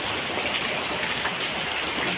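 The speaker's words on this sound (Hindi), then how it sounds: "ये बहुत तेज बारिश हो रही है।" Heavy rain pounds a tin roof in a village, a dense, even roar of drumming drops that holds steady and close, with no voices.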